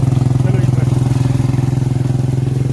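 A motorcycle engine chugs steadily and close by, a low rhythmic putter running throughout with no pauses.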